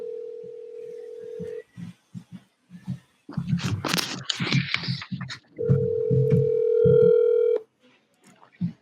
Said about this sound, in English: So we're going to call her up now and get some answers.